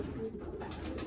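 White grizzle racing pigeons coo softly in a home loft, a faint steady murmur beneath a noisy background.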